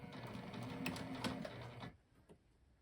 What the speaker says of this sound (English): And we're just going to sew slowly to get our stitches nice and straight.